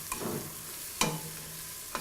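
Mushrooms browning in a pan for a mushroom stroganoff give a steady broadband sizzle, broken by three sharp clacks of a utensil stirring against the pan.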